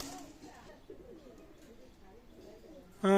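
Pakistani high flying pigeons coo in soft, repeated low throaty calls close by, with someone speaking over them and a sudden louder sound at the end.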